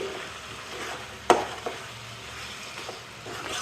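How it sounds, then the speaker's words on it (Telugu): Masala paste for aloo kurma fries in a pan, a soft steady sizzle with a sharp clink of a spoon and light stirring scrapes, fairly quiet and without speech. "ఈ మసాలా అంతా కూడా పచ్చివాసన పోయేంత వరకు ఫ్రై చేసుకోవాలి"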